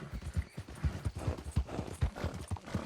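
Horse hooves clip-clop steadily at a brisk walk in Red Dead Redemption 2, in the city of Saint-Denis, with close, even, repeating thuds and no talk over them.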